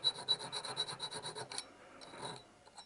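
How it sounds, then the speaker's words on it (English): A jeweler's file rasps in quick repeated strokes across burrs on a wood-turned Klein bottle piece with a metal band, close and fairly faint, followed by a brief pause and a few more scrapes. "A jeweler's file."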